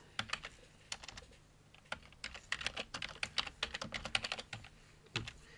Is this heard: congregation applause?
no